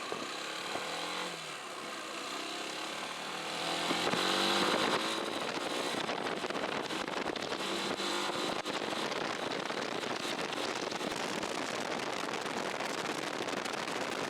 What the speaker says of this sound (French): C'est dans ces virages que je me suis rappelé à quel point c'était agréable de rouler avec cette moto dans des petites routes de campagne comme ici.